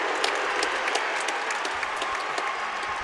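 A crowd at a high school boys' state wrestling championship claps and cheers steadily in a large arena, dense continuous applause with scattered sharp claps throughout.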